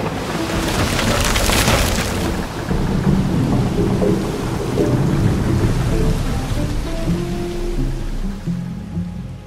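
A thunderstorm at sea with heavy, steady rain and deep rolling thunder, a loud crack of thunder early and then a continuous rumbling wash of rain throughout.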